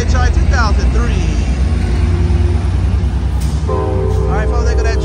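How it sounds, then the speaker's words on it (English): An Amtrak Capitol Corridor passenger train with an F59PHI locomotive rumbles loudly and steadily close by as it departs Oakland Jack London Square, with a horn sounding in long tones near the end while a voice talks over it. "look at that train going to Sacramento"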